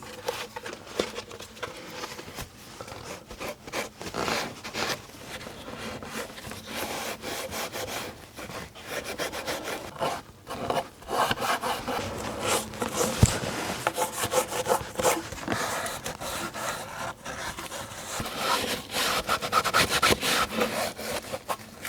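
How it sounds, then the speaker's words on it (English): A rag rubs shellac onto an old wooden tea table, a steady soft swishing and scuffing that continues throughout, close and fairly even, with no voices. "I like applying shellac with a rag."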